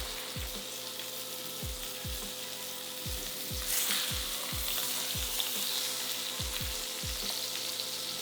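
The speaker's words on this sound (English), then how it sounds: "The irony is the meat is cooking in its own bone marrow." Sirloin steak searing in a hot pan with garlic, cooking in its own bone-marrow fat: a loud, continuous close sizzle with a string of sharp low thumps and spatters throughout, no talking.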